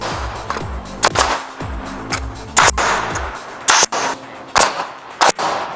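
A pneumatic nail or staple gun fires into Quick Qurve Plate while a wall is built, giving sharp, loud, close bangs in an uneven rhythm of about eight shots, alone with no talking.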